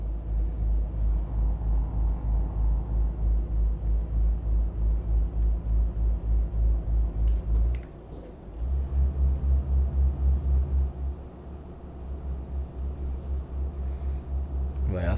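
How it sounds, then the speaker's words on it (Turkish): A 35-ton truck in a driving simulation game cruising on a road between Kahramanmaraş and Kayseri, a loud, steady low engine rumble that briefly drops off mid-way before returning at a slightly different pitch. "Bayağı seri gidiyor araç."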